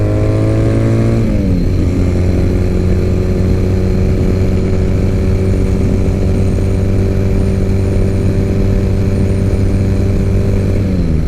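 A Triumph Bonneville motorcycle accelerates in second gear, its engine a loud, steady, close drone that dips in pitch at the shift and then holds a strong, even roar throughout.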